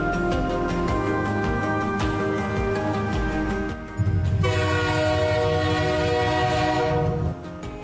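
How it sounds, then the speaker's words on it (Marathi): The Matheran toy train pulls into Matheran station in the green hills, its horn sounding loud and sustained in two long blasts separated by a short gap, with rumbling rail noise underneath. "ही आहे आपली माथेरानची राणी, माथेरानची टॉय ट्रेन, आणि आपण पोहोचलेलो आहोत माथेरान स्टेशनला"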